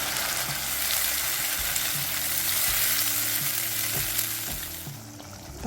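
Steady crackling sizzle of ground spice paste frying in a hot pan for Kerala mackerel curry, with occasional scraping stir clicks throughout.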